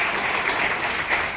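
Audience applause at a music concert for a singer, a steady even wash of many hands clapping, fairly distant and moderately quiet, with no speech.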